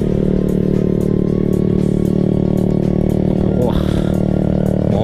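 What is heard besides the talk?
motorcycle with loud popping exhaust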